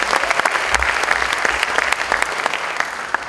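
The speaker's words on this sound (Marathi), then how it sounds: "त्या स्टेटमेंटसाठी एकदा जोरदार टाळ्या आपण वाजवूया." An audience applauds at a motivational entrepreneurship event, dense and loud clapping that holds steadily throughout before thinning slightly at the end.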